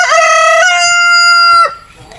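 A rooster crows loudly and close by in a chicken house made of tarpaulin, one long drawn-out cock-a-doodle-doo ending in a falling note, then fades into quieter farmyard sounds.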